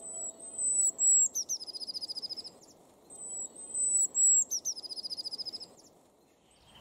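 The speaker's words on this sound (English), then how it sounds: "that is the high-pitched noise that you've got to listen out for the blue tit singing" Blue tit singing outdoors in winter, two repeated phrases of high thin notes each ending in a fast rhythmic trill, clear and fairly close over a low background murmur.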